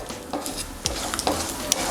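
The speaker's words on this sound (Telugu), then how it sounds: "పల్లీలు కూడా వేసినాక ఒకసారి కలుపుకుందాము" Peanuts sizzle in hot oil while a spoon stirs and scrapes the pan in a few quick, close strokes.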